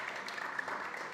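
Audience clapping at a panel event on closing the nutrition gap, a brief, even patter of hands, moderately faint and steady with no break.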